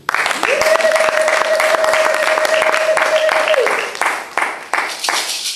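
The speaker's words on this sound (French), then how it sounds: "Acclamons la parole de Dieu." A church congregation applauding after a sermon, loud and sustained clapping that fills the room, with a held tone sounding underneath and the applause tapering off at the end.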